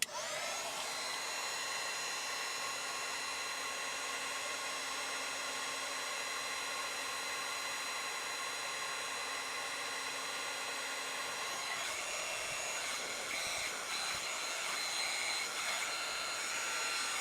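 A heat gun blows steadily over heat shrink tubing on wiring, a loud continuous airy whoosh with a constant fan whine; the tone shifts and roughens briefly near the end as it is moved.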